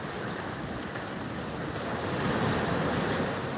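Ocean waves wash in steadily under a gusting wind on an overcast morning, a continuous broad roar of surf with wind buffeting the microphone, growing slightly louder toward the end.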